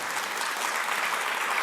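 A brief, full burst of audience applause at a motivational talk, many hands clapping together in a dense, even wash that fills the short moment without any speech.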